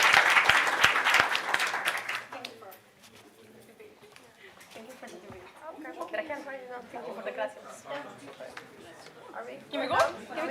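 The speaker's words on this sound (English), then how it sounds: "Big round of applause for them." An assembly audience claps in a short burst of applause that fades after about two seconds, followed by people talking over a murmuring room with a few scattered claps later.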